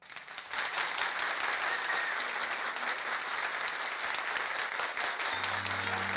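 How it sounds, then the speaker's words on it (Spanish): Sustained applause from a stadium or event audience honoring pitcher Pedro Martínez, a dense steady patter of clapping that swells in quickly and holds at a constant level, with faint voices mixed in and a low hum near the end. "¡Aplauso, Mickey!"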